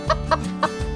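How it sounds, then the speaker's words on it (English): Farm chickens cluck in a few short, close, bright bursts, alone with no voices. "Chickens."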